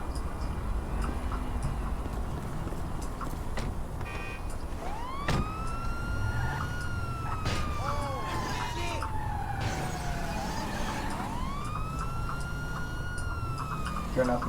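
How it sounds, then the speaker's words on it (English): Police car siren in the GTA 5 video game wails in rising and falling sweeps over a steady engine and road rumble, loud and close, with brief gaps between siren bursts. "Turn off my siren and drive"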